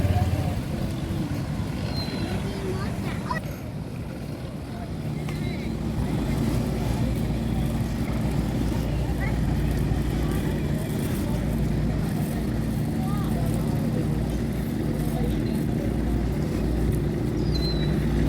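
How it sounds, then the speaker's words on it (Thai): Ferry boat crossing the river from Wat Arun to Tha Tien pier in Bangkok, a steady low engine drone with water rush and wind, continuous throughout at close range. "เรือที่เราเห็นนี้ก็จะเป็นเรือออกจากวัดอรุณ เพื่อที่จะเข้าไปท่า ท่าเรือที่ท่าเตียนนะครับ"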